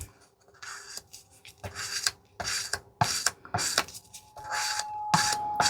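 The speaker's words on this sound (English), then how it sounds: "Now let's scrape this one off and move on to our white." Colour being scraped off a mixing surface: repeated rough rasping strokes in irregular bursts, fairly close and moderately loud, with brief pauses between passes and no talking.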